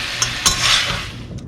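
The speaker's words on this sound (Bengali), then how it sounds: "এবার একটু নেড়ে ছেড়ে দিলেই হয়ে যাবে।" A spoon stirs moringa drumstick curry in a pan, making a few quick scraping clinks over a soft, continuous sizzle.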